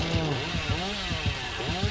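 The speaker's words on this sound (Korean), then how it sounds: "전기톱 본다." In the horror game Dead by Daylight, the killer's chainsaw revs in steady pulses about every half second, a loud buzzing drone with no voices over it.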